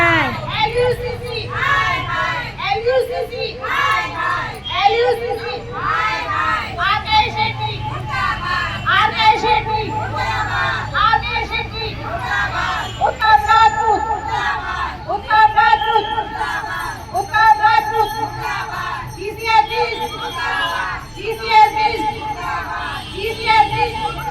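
Crowd at an LSCC sit-in protest (dharna) over unpaid dues, with a steady babble of many voices and children nearby and rhythmic bursts of chanting or call-and-response throughout, loud and close.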